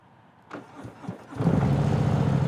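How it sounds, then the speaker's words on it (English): A Harley-Davidson Low Rider S motorcycle engine cranks with a few short bursts, then catches and settles into a steady, loud idle heard up close from a helmet microphone. "You guys hear me start my bike in just about every video"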